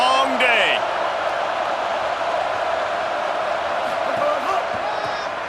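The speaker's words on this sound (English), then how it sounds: "This crowd, full throat, splitting the eardrums" A packed stadium crowd in a college football game, EA Sports College Football, roaring in a loud, dense, sustained wash of noise, with a few whoops and a commentator's voice on top.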